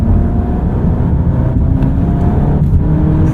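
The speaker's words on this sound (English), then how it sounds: "Let's go into dynamic mode. Use these wonderful paddle shifters." 2023 Alfa Romeo Giulia Estrema with a 2-liter turbo, accelerating under paddle-shifted gear changes in dynamic mode, with a loud, dense engine drone from inside the cabin and brief dips as shifts land.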